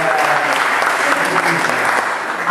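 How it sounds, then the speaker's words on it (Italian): Dense audience applause in an Italian conference hall, continuous clapping from a large crowd with a murmur of voices underneath. "Io penso che questo meriti un grande applauso."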